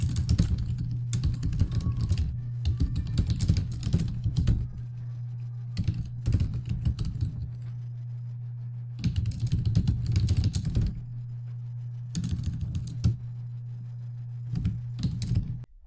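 Steady computer keyboard typing while a new podcast clip title is entered, bursts of quick close keystrokes separated by short pauses, over a constant low hum and with no voice.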